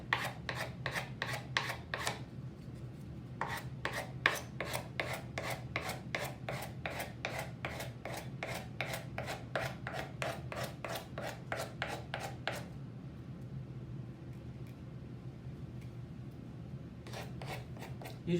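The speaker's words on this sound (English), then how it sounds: "I usually just run sandpaper over the surface just for a second before I put the napkins on it" Sandpaper is run lightly over a surface to prepare it for napkin decoupage, making quiet, even rasping strokes in quick rhythmic runs with a few short pauses between them.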